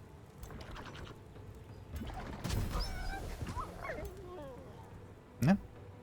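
A puppy in the video game Age of Wonders 4 gives a few short whimpers and yips in the middle, then one louder sharp yelp near the end, over quiet game background.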